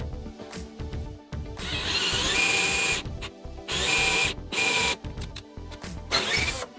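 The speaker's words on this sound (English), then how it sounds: "Then I'm ready to drill the hole to add the bracket to hold my legs" A power drill whines through wood in three loud bursts, drilling a hole for a dresser leg bracket, separated by brief pauses with quieter handling noise in between.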